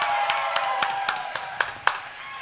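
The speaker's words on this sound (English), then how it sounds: "Huge round of applause." Scattered hand claps ring out over a steady crowd murmur, a handful of sharp claps rather than full applause, fairly close.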